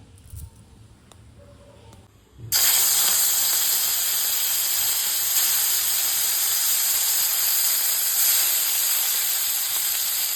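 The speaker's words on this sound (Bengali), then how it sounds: "তেল হচ্ছে গরম, আর আমি চিংড়ি মাছটা ফার্স্টে ভেজে নেব।" Prawns hitting hot oil to be lightly fried, a loud broad hiss of sizzling that bursts in after about two and a half seconds of quieter kitchen noise and holds steady to the end.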